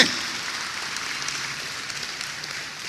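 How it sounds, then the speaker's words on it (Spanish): A church congregation claps together during a sermon, a dense, even wash of applause that bursts in at once and holds steady for the whole stretch, with no voices over it. "Dele un aplauso."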